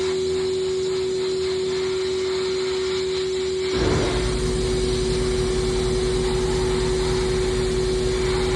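A sandblaster works over a plastic snowmobile clutch part before Cerakote coating: a steady mechanical whine and hiss at first, then a sudden louder burst of rushing blast air that continues to the end.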